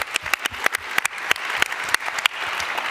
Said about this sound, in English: Big applause, because we deserve that.